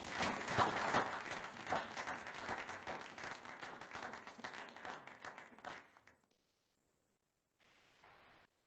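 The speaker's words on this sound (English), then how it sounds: "let's give Chancellor Frank another round of applause" A crowd applauds steadily with dense, sustained clapping for several seconds, which cuts off abruptly into silence before a brief faint burst of noise.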